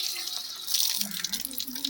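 Water runs and splashes while a fish tank is washed inside and out, a continuous hiss of flowing water with small, uneven splashes close by.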